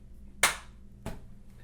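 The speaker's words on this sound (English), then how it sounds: "And we need a clap." A single sharp hand clap in a quiet room, followed about half a second later by a second, softer clap, both close and dry against a faint hum.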